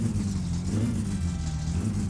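A struggling car engine with an oil warning light on in My Summer Car, a continuous low, rough rumbling drone that wavers slightly, steady and close throughout.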